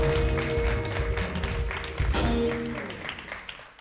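A TV studio audience applauds steadily for a few seconds, and the clapping thins and fades toward the end as music tones sit underneath.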